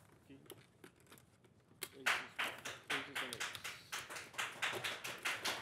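At a $5,300 buy-in poker final table, a small crowd breaks into clapping after low murmuring talk, the claps coming in a brisk, loud, fairly regular rhythm that keeps going to the end.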